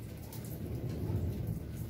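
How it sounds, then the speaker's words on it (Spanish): Light rain falling steadily outdoors under an overcast sky, a soft, even hiss of drizzle with no distinct drops or thunder, faint and continuous throughout. "está lloviendo"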